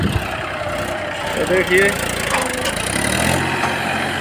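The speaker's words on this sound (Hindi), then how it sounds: "बहुत ज़्यादा लोड हो गया है, ट्रैक्टर उठ जा रहा है बस।" An overloaded tractor hauling fertilizer to a field rumbles at a steady, low idle, the engine drone continuous beneath someone talking.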